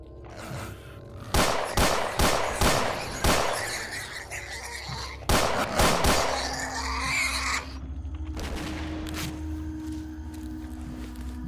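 MP5SD fitted with a waffle magazine fires in STALKER Gunslinger: several sharp bursts of gunfire in clusters, loud and close, with ringing mechanical tails and a low hum lingering after.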